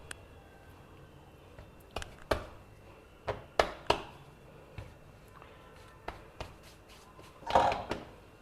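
Knife or cutter knocking on a countertop while portioning a large rolled circle of methi thepla dough, a scattered series of short dull taps and thuds, with a longer scraping press near the end, close and fairly quiet.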